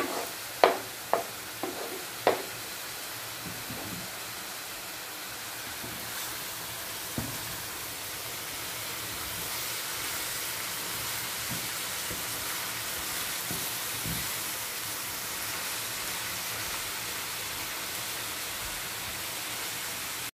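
Peppers fry in a pan with a steady, soft sizzle hissing throughout, a few sharp clicks of stirring near the start and occasional faint taps later on.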